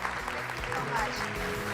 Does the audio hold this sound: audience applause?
yes